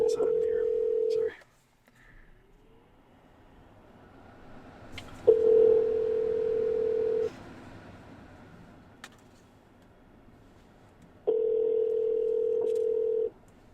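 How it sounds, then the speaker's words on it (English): A telephone dial tone or dialing signal sounds in three long steady beeps separated by pauses, loud and close, with faint background noise between. "I'm actually going to call it right now."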